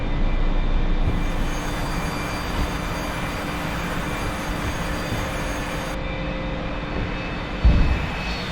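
A Douglas A-4E jet with a partial fuel load in the DCS flight simulator, a steady loud roaring engine drone with a constant high whine through the takeoff roll, ending in a short thump.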